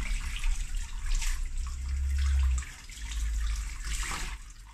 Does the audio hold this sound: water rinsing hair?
yes